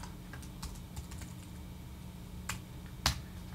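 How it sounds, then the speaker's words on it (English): A computer keyboard space bar is pressed in a quiet room. A few soft, scattered clicks come first, then one sharper, louder press near the end. "I'm asking you to press this space bar to get it going."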